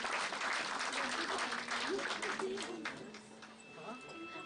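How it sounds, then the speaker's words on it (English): A round of applause welcomes guests at an international management conference, steady broadband clapping from an audience, loud at first and then thinning slightly, with voices murmuring underneath. "Please welcome our guests to the huge round of applause."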